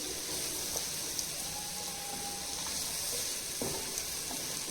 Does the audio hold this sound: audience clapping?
no